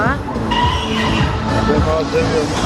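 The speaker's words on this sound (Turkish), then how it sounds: "Turunculu kırmızılı çarpışan arabalar." Orange and red bumper cars at an amusement ride roll and clatter together while a skidding, screechy whine of wheels rises over a busy crowd, with voices talking and shouting throughout.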